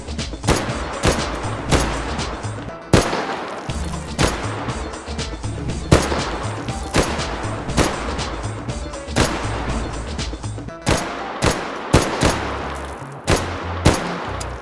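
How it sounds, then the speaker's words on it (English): World War II carbine rifles fired in the H3VR virtual reality shooting game, a run of sharp, loud gunshots in quick succession with short gaps, some in close bursts, up close and with no voices. "So let's go ahead and fire these off first. The carbines."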